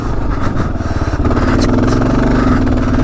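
A Gen 3 Kawasaki KLR 650 motorcycle laboring up a steep dirt hill with the clutch worked, its engine loud and close, rumbling and then revving higher with a steady rising pitch.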